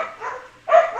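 Several excited dogs bark in two short bursts, the second louder and closer, with a quieter stretch between them.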